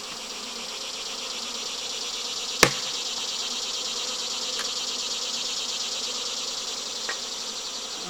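A honeybee fall swarm buzzes steadily around a swarm trap, a dense, continuous high drone close by, broken by one sharp knock and a couple of faint taps.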